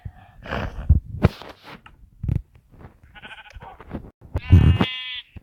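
Blocky Minecraft sheep give several short, close bleats with quiet gaps, plus a few soft game clicks and thuds between the calls.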